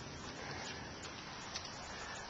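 Rain falling outside during a thunderstorm, a soft continuous hiss of drops with no distinct rhythm, faint and steady throughout.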